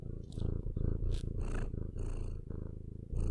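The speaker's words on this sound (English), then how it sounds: "you just want to purr into the microphone" A pet cat purring right up against a microphone, a loud, close, continuous rumbling purr with rhythmic in-and-out breaths and small snuffling sounds, no voices.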